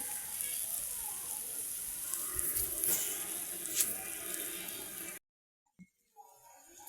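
Curry leaves sizzle in hot oil with okra for a buttermilk okra curry: a steady, bright frying hiss for about five seconds that stops abruptly, leaving near silence with a faint sound or two.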